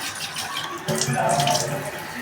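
A kitchen tap runs steadily while a glass is rinsed clean in a sink, the water splashing louder partway through with no one speaking.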